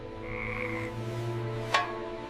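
A frog croaks in an animated fairy tale about a princess, a steady droning croak held under a soft tonal background, with a brief sharp chirp near the end.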